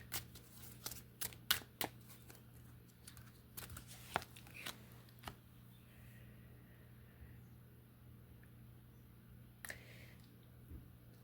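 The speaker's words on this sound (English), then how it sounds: "Let me put these cards out" Tarot cards are shuffled and laid out close up, with a flurry of quick riffling snaps followed by quieter soft slides and taps over a low background hum.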